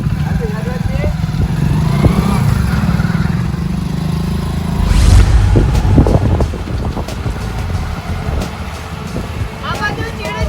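A motorbike ride with a rumbling engine and heavy wind buffeting the microphone, a surge of noise midway, and voices talking over the ride.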